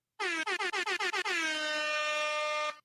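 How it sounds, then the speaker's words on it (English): An air horn sound effect blasts in a rapid stutter of about seven short honks, then holds one long sustained blare before stopping, loud and close with nothing else heard. "Let me give y'all a little bit of air horn before we get up out of here."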